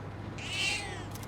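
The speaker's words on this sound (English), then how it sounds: "There's the cat." A cat in the video game Persona 3 Reload gives a single short meow, clear and close against a low, steady background hum from the game.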